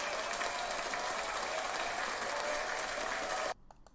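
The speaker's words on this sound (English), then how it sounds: "Round of applause for Professor Pat Smith" A round of applause from an audience for a professor, dense steady clapping for about three and a half seconds that cuts off abruptly, leaving a few faint knocks.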